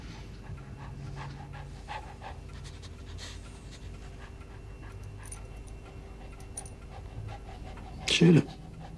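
A dog pants in rapid, steady breaths with occasional faint whimpers, close and moderate in level, until a loud sudden burst near the end.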